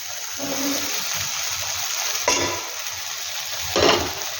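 Spices for a new-potato curry (aloo dum) fry in a pan with a steady broadband sizzle, broken by two louder scraping stirs; no talking.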